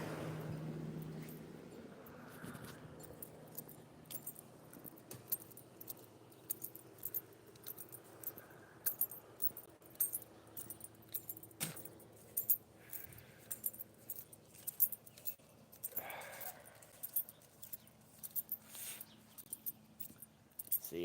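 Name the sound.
keys jangling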